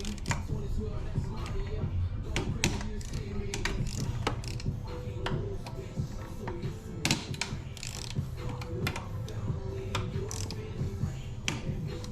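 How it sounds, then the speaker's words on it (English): Ratchet and hand tools clicking while bolts are loosened on the intake manifold of a 2011 Honda CR-Z during a manifold swap, a steady run of close, sharp metallic clicks and ticks throughout. "I'll probably use my ratchet."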